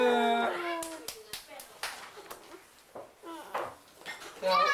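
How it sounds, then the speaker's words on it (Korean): Scattered, uneven hand claps at a birthday celebration, a handful of sharp close claps spread out between voices and talking, with some household clatter in the room. "박수."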